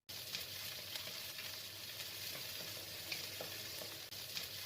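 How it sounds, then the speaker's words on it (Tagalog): Chicken feet sauté in a hot pan, giving a steady close sizzle with light crackles and occasional stirring scrapes, quiet overall, with no talking. "At ilagay ang paa ng manok, gisahin ng mahusay."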